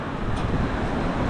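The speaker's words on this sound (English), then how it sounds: "really windy out here" Strong gusts during a windstorm in the Ohio Valley, a loud, dense, low rumble of wind buffeting the microphone outdoors, steady for the whole moment.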